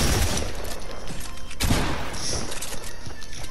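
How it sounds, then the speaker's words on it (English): Gunfire in a Fortnite match, dense bursts of shots and booms with a sharp loud report midway, continuous battle noise. "Some clutch sniper shots"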